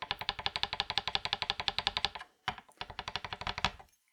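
A fret rocker clicks rapidly on a PRS SE Custom 24 guitar fret, regular ticks in a steady run, pausing briefly, then resuming for a shorter burst; close and fairly loud with no voices.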